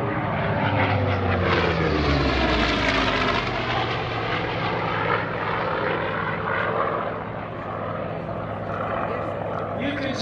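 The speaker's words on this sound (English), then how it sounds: "From the right, screaming in, here's the good guy, the Corsair." A Corsair propeller warplane roars in loud and close at an airshow, its engine note rising and sweeping past, then fading slightly as it passes, with a voice talking over it.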